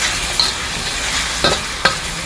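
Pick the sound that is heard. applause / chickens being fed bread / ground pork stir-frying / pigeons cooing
ground pork stir-frying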